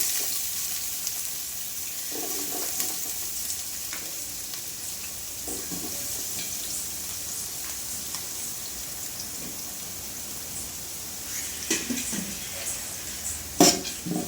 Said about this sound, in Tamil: வெங்காயம் நல்லா பொன்னரமாக நல்லா வதங்கவும்